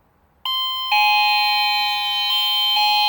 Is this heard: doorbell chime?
yes